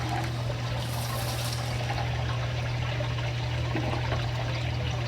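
Water pours steadily from the overflow return of a saltwater aquarium fitted with two protein skimmers, a continuous close splashing trickle over a low pump hum, with no talking.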